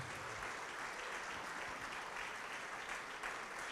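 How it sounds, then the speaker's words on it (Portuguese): A church congregation applauding during a service, a steady wash of many hands clapping at a distance, soft and even throughout with no distinct voices. "E vamos aplaudir mais ao nome de Jesus."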